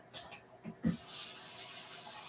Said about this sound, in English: So you'll hear the water running behind you.